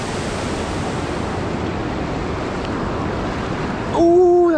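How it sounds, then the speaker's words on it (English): Steady broadband roar of a waterfall in the North Georgia mountains, loud and constant, with a brief tonal voice-like sound rising at the end. "this waterfall, this is so dang cool"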